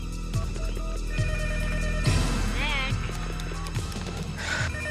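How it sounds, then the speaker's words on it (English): A telephone bell rings repeatedly in a dramatic film scene, set against music and background sound with a steady, insistent rhythm. "pick up the phone"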